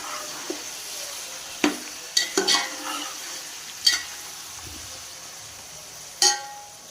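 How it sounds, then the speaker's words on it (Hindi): Chicken browning in a pan for a chicken pulao, with a low, quiet sizzle under a handful of scattered spoon scrapes and clinks as it is stirred. "चिकन को हमने 5 से 7 मिनट तक अच्छे से इसी तरह भूनना है।"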